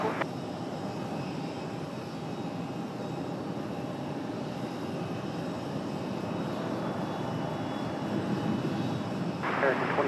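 An Aer Lingus airliner comes in to land at Raleigh Durham airport, a broad, steady engine roar held for the whole stretch, with a radio voice talking over it.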